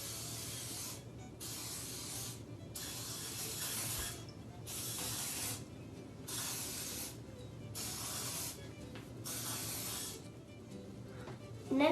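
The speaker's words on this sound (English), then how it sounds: "you're going to spray your muffin tin so the chocolate doesn't stick to it" Cooking spray hisses onto a muffin tin in a kitchen in repeated bursts of about a second each, separated by short pauses, close and fairly loud.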